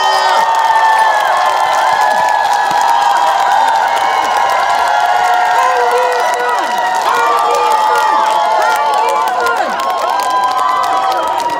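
A crowd at a township day festival in Jinan, Korea cheers, whoops and claps loudly, with high excited shouts and whistles rising and falling over a continuous roar of voices close by.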